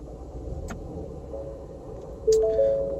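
A car engine cranks and catches, then settles into a steady idle: a quiet low rumble that rises abruptly into a louder, fuller running sound near the end.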